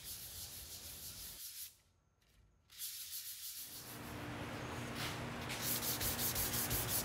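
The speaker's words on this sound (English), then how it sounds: "we're going to switch over to 220 grit sandpaper, give everything a light sanding" Quiet rubbing and scraping of hand sanding with 220 grit sandpaper on a painted cube-shaped lamp, with a short pause before resuming in steady back-and-forth strokes.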